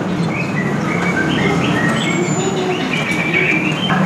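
Caged songbirds such as canaries, shrikes and magpie-robins chirp and trill together at a bird shop, a dense, continuous chorus over a loud, rough background hum.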